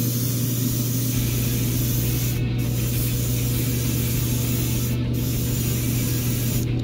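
An airbrush sprays clear coat over the decals on a 1/24 Peugeot 306 Maxi model, giving a steady, continuous hiss close by with a low hum underneath and brief breaks in the spray.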